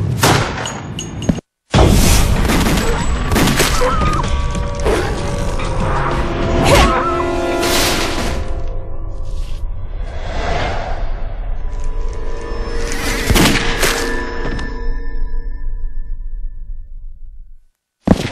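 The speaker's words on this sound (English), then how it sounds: "Gunshot!" Rapid bursts of gunfire in the shooter game Resident Evil: The Darkside Chronicles, with loud, dense shots and clattering mechanical effects packed over about fifteen seconds before fading out.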